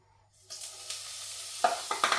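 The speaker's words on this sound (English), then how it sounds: "Now we're going to add a little bit of butter." Butter dropped into hot oil in a pan for a Pakistani beef karahi begins to sizzle, a soft steady frying hiss with a few sharper crackles and spatters toward the end.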